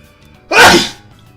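A single sharp, loud sneeze bursts out close by, then fades into quiet.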